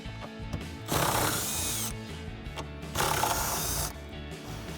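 Ratchet wrench with a 10mm socket working shifter bolts loose on a 2009-2023 Dodge Challenger, giving two bursts of fast metallic clicking with quieter mechanical handling between them, close up.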